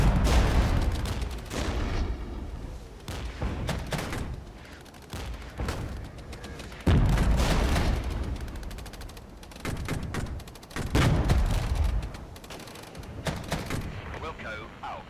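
Soldiers in the video game Regiments open fire in repeated loud volleys, with sharp cracks and heavy booms rolling on and off throughout, some bursts dense and overlapping like a fusillade.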